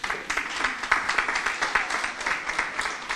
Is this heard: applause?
yes